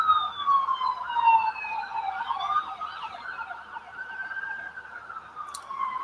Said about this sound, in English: you'd always hear the ambulance or the police going up and down